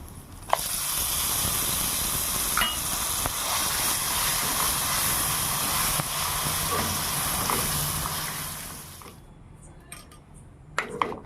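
Cashews and curry leaves fry in hot oil, giving a steady, loud sizzling hiss that runs unbroken for several seconds, with a few faint clinks, before cutting off near the end.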